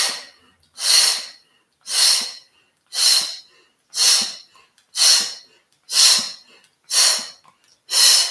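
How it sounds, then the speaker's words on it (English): Rapid fire breathing during an energy awakening yoga exercise: eight forceful, evenly spaced breath bursts about one per second, close and breathy, with no talking. "using a rapid fire breathing pattern"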